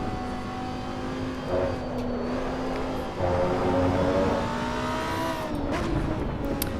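A Lamborghini Huracán SVO on the Nordschleife track roars continuously from inside the car, its engine note climbing and dropping through gear changes and loud throughout.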